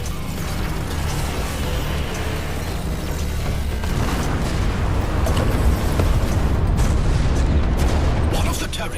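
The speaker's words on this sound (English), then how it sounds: "Several torpedoes are incoming." Torpedo explosions and heavy booms from the space combat game Everspace 2, a dense, continuous roar of blasts and rumbling that stays loud throughout with no pauses.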